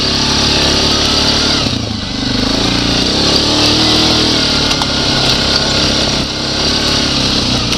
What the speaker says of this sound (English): Some people think 2-strokes are scary, but I like the power of the 2-stroke.